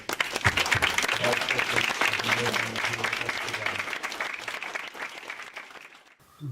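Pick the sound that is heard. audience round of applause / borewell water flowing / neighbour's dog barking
audience round of applause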